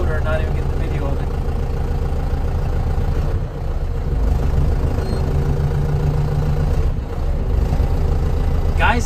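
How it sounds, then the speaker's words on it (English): A John Deere 6310 tractor's loader engine runs steadily at a constant idle-like drone, loud and close, with brief dips in the sound. "I'm running the loader and not even getting the video of it"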